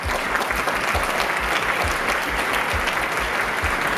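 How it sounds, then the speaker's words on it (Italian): Steady applause from an audience at a stage event in Italy as students are called up to be recognized, dense and continuous clapping filling the room for about four seconds with no voices. "fatemi un applauso"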